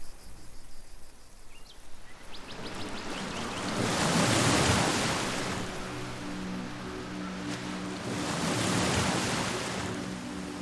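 Ocean waves roll onto a quiet shore in two slow, broad surges of hissing surf, each building and then fading, while insects chirp faintly underneath.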